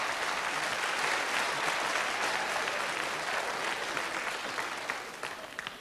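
A theater audience at a live variety show breaks into sustained, dense applause, steady and full for several seconds before slowly thinning toward the end.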